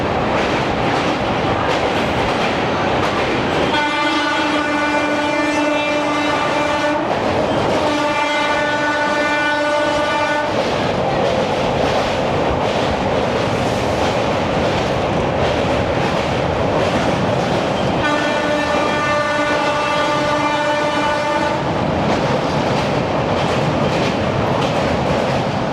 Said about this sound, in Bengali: দেখো ডানকুনি ছাড়ার সাথে সাথে ট্রেন 130 ছুঁয়ে ফেললো।